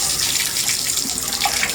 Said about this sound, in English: Switch over, see if the shower comes on,